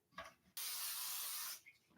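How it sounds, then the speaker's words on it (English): Cooking spray hisses from a can onto a pan in a kitchen: one steady, close burst of about a second, preceded and followed by small handling noises. "I'm going to spray the pan."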